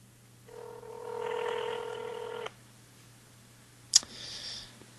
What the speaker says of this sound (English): Can you give Matt a quick call real quick? It's ringing.